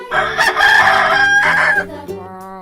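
A rooster crows once in a loud, drawn-out cock-a-doodle-doo that rises and then trails off, close and clear with nothing else underneath.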